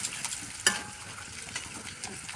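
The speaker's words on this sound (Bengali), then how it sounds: "আদা রসুন দিয়ে দিলাম 1 চামচ। ভালো করে ফ্রাই করে নেবো।" A spoonful of ginger and garlic paste spits and sizzles in hot oil, with a sharp crackle as it goes in and a soft, steady frying hiss after.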